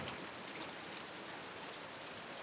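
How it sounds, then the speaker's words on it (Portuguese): Rain pours steadily on the eve of São João in the late afternoon, a dense, even hiss of drops that stays loud and unbroken with no voices. "Quanta chuva."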